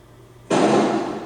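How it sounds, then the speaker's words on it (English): A door bursts open down a hallway with one sudden loud bang, followed by a sustained rushing, rattling noise that slowly fades over about a second. "Door flies open down to the hallway"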